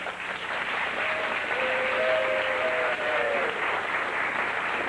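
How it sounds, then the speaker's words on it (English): Steady applause from a television game show studio audience fills the room, a dense even patter of clapping that holds at the same level throughout. "Give them a big round of applause."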